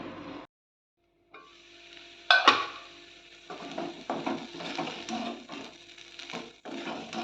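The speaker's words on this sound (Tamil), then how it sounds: "கிளறி கொடுத்துக்கலாம் இதே மாதிரி அஞ்சு நிமிஷத்துக்கு ஒருக்கா கிளறி கொடுத்துக்கிடணும்" Ivy gourd stir-fry being stirred in a pan, a brief silence followed by a sharp metal clank, then a run of close scraping and rustling strokes from the spatula.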